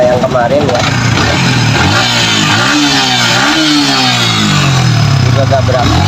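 Yamaha Vixion motorcycle engine with a rough-running complaint, turning over and revving steadily close by, pitch rising and falling, with someone talking over it and passing traffic behind.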